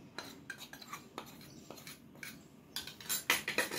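Chicken pieces are mixed with salt, Kashmiri red chili, red chili powder and turmeric in a bowl, producing soft, intermittent clinks and scrapes of a utensil, quiet and close, growing busier toward the end.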